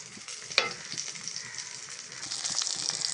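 Eggplant slices fry in a pan with a soft, steady sizzle and crackle, punctuated by a single sharp utensil clink near the start.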